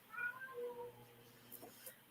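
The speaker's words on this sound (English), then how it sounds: "can you hear my cat in the background?" A cat meows softly in the background indoors, one drawn-out faint meow and a second brief cry, with light room noise.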